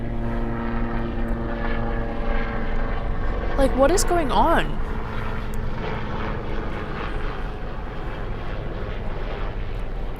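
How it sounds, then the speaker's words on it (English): Helicopters flying over New York City make a steady, continuous propeller drone throughout, with a brief speaking voice partway through. "there are so many helicopters"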